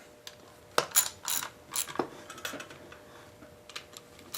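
Bolts being tightened with a hand tool on a Briggs Model Y engine during a rebuild, a string of sharp metallic clicks and clinks at close range, irregular and alone.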